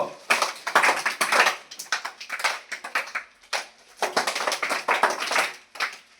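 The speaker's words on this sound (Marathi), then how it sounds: "पुन्हा एकदा जोरदार टाळ्या" Applause from an audience at a school event for former tenth-grade students, loud, dense clapping close by that swells in two long bursts with a brief lull between.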